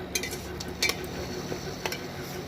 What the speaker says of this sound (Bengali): মশলাটা ততক্ষণ নাড়তে হবে যতক্ষণ না তেল ছেড়ে দেয়